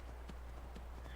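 A unicorn's hooves clip-clop in Skyrim, a few soft, spaced hoof knocks over a low steady hum, faint and close.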